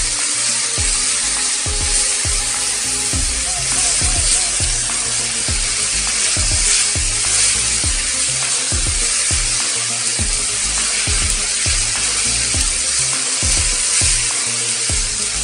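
Mie tek tek noodles fry loudly in a pan while being stirred, with a dense continuous sizzle broken by rhythmic scraping and clattering strokes of the spatula throughout.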